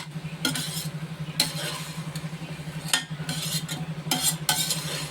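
A pot of vegetables with turmeric powder is stirred with a spoon, giving several scraping, clinking strokes at irregular intervals over a steady low hum, close and moderately loud with no talk.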